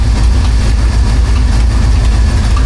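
An LS V8 in a 1957 Chevy Gasser idles loudly and close up, a deep steady rumble that lopes slightly and holds throughout with no voices.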